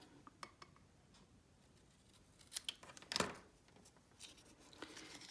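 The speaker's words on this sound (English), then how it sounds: "so I'm just gonna snip that off a little bit." Scissors snip through paper layers while a birthday card is made. The cuts are close, quiet and brief, with a sharper crisp cut near the middle and light paper handling around it.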